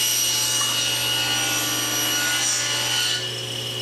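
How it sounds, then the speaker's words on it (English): A table saw rips wooden chopstick blanks to width, a steady loud whirring cut with a constant motor hum that runs continuously and eases slightly near the end. "Now I just need to rip these blanks to width and we can start shaping them."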